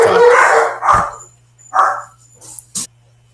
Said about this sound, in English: So you heard my dogs go off.